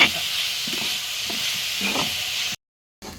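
Onions, tomatoes and green chillies sautéing in a pan give a steady close sizzle and hiss with faint stirring scrapes, cutting off briefly before the frying noise resumes.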